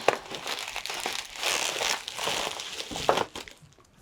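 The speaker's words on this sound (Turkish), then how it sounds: "Hemen kutu açılışını yapalım" Packaging of a Kiwi KSI-645 portable foldable steam iron being opened, producing continuous close crinkling and rustling of plastic and paper, with a few sharper crackles before fading out.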